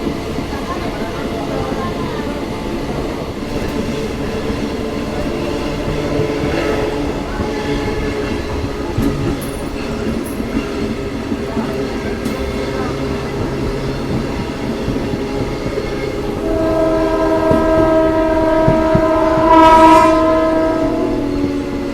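A local train on the Bangarapet–Kolar line rumbles steadily along the rails at about 40–45 km/h with rhythmic clatter, and a loud horn sounds toward the end.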